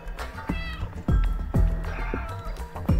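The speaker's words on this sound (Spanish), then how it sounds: "El gato buena onda." A cat in the video game Stray gives several distinct meows spaced through the clip, some drawn out into a caterwaul, clear and close over a low game background.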